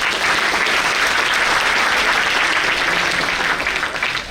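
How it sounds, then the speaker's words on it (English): A conference audience of accountancy students claps loudly and continuously, a thick, uniform burst of applause lasting over four seconds with no voices above it. "I think clap for her, please."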